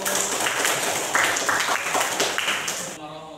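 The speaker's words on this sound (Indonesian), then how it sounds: "Tepuk tangan untuk kelompok audio." Applause from a classroom or workshop group welcoming the audio team, a steady wash of clapping hands that runs for about three seconds before cutting off, with voices mixed in underneath.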